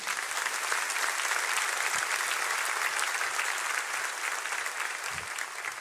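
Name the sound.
congregation applauding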